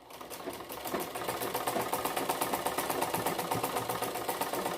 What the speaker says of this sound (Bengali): এখন আমরা ডাবল করে সেলাই করে দিচ্ছি যাতে শিলিটা খুলে না যায়